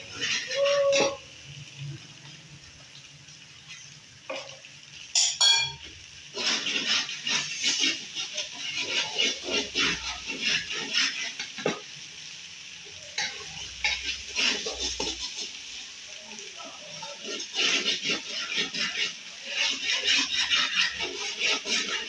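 Desi chicken being browned and stirred in a pot for curry, with repeated scraping and clattering of a spoon against the pot over a soft sizzle, close by and irregular, with no talk.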